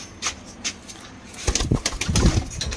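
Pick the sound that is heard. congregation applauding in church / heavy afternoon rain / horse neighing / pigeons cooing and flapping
pigeons cooing and flapping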